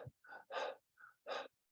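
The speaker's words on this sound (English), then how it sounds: "It's a panting breath," Short, forceful panting breaths demonstrated during a conscious connected breathwork exercise, several quick huffs in an uneven rhythm, close but fairly soft, with brief silences between them.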